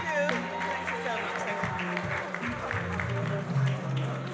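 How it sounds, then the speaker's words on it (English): Applause from an awards ceremony audience for a nurse receiving an award, scattered clapping mixed with background music and overlapping voices in a busy hall. "Give her a round of applause, please."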